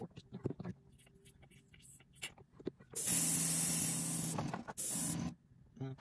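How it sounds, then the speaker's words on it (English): An airbrush being cleaned out bursts into a loud, close, steady hiss of spray for over two seconds, cuts briefly, then sprays again, after scattered quiet clicks and handling noises. "I gotta clean out the airbrush"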